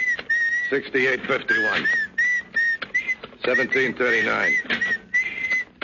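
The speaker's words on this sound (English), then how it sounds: "Doc, stop that creepy whistling, will you?" Someone whistles a wavering, eerie tune in short repeated phrases, close up, while a man reads out dollar figures over it.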